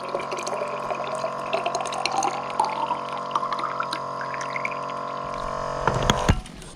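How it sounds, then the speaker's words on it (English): Water pours steadily from a powered dispenser pump into a bottle, a continuous gurgling trickle with a faint motor hum and rising pitch as the bottle fills, ending in a brief clatter. "And out comes the water."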